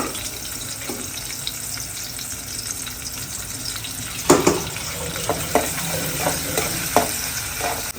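Chopped onions frying in oil with a little salt, a steady close sizzle with occasional scraping and stirring knocks in the pan.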